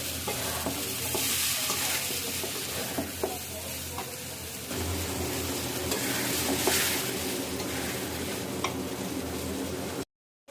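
Boiled fish roe sautéing with spice masala in a pan, a steady close sizzle and fry with scraping stir strokes and light clinks throughout, no voices.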